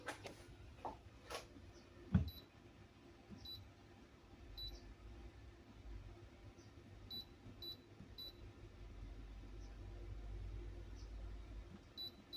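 A small buzzer on the control board of a digital rice cooker, plugged into 220-volt mains, gives faint, high, short beeps that repeat at irregular intervals over a low electrical hum.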